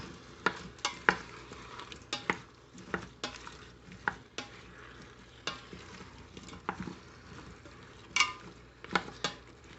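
Birria sauce simmering with a cinnamon stick and bay leaves, a low bubbling sizzle broken by frequent sharp clinks and scrapes of a spoon stirring against the pot, close and steady throughout.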